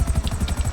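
A golden Buzzard helicopter in GTA Online thrums with a fast, continuous rotor chop, loud and close, steady for a short moment with no voices.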